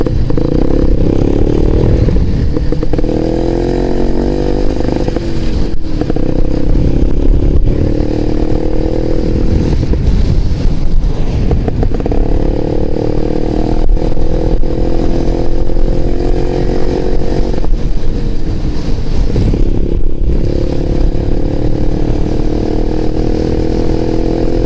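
Close, loud BMW GS motorcycle engine droning steadily as the bike rides along, with rising and falling revs and wind rush throughout, no voices.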